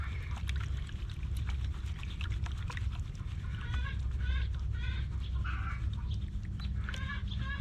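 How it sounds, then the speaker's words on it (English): Chickens squawk and cackle in short bursts over a steady low rumble of outdoor noise, moderately distant, with scattered clicks and knocks. "Chickens are laying eggs over there when they get squawking like that."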